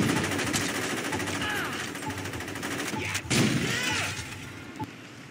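Rapid gunfire in Saints Row 2, continuous automatic bursts and scattered shots crackling loudly for several seconds, with a brief louder blast near the middle and little talk over it.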